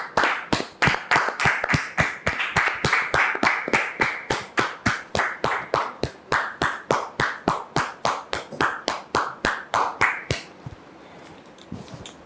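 An audience welcoming a guest with clapping in steady unison, loud sharp claps at a regular quick beat for about ten seconds before it fades out.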